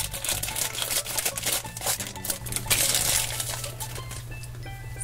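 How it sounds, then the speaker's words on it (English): Scissors snipping open a crinkly plastic blind bag toy package, a close burst of rustling, crackling plastic and small cutting clicks that continues for several seconds. "And I'll get my scissors and get this one cut."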